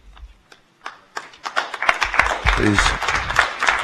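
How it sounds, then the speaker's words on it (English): Scattered hand claps build into a burst of audience applause at a school board meeting, growing denser and louder toward the end, with some voices mixed in. "Please, let's hold our applause, please"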